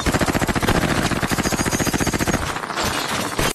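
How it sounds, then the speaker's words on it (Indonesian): Rapid automatic gunfire from the film The Guest (2014) rattles in a dense, steady burst for a couple of seconds, then gives way to a rougher, noisier crackle near the end. "Tiba-tiba terdengar suara tembakan."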